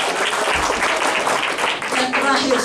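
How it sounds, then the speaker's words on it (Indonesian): A church seminar audience in Semarang claps for Jesus, a full, continuous burst of many hands applauding in a hall, with voices and cheering mixed in near the end. "berikan tepuk tangan bagi Yesus"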